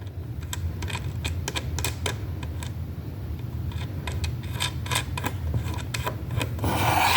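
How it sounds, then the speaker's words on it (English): A small bolt being inserted and fitted into a plastic phone stand: a quick, close run of light clicks, taps and rubbing scrapes over a low steady hum, with a louder rasping scrape at the end. "I'm gonna take my little bolt and put it in here."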